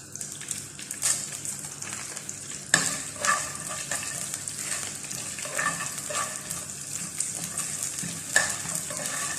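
Butter sizzling in a pan while something roasts in it, with a continuous close frying hiss broken by repeated scraping stirs of a utensil, loud and steady with no talk.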